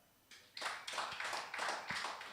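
A comedy crowd applauds in bursts after a prompt: a quiet start, then broadband clapping swells at about half a second and carries on in several uneven waves to the end, with no talk.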